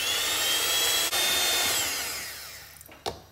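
Egg whites whisked in a very clean bowl, heard as a steady high whirring that holds for about two seconds and then fades, ending in a brief clatter.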